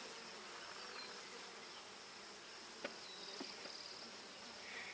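Honeybees buzz faintly around an open homestead hive during an inspection, a soft steady hum with a few brief nearer passes and light knocks, no talking.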